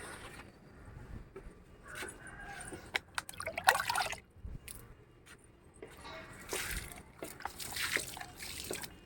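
Water poured from a mug onto potted rooftop garden plants such as lemon and fig, with intermittent splashing and trickling bursts, loudest near the middle and again toward the end, with no talking.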